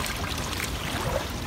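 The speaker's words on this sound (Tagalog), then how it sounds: "Grabe ang ulan." Heavy rain pours onto a rooftop that is flooding, a dense, even wash of noise close by that stays constant throughout with no voices.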